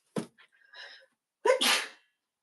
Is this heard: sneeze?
yes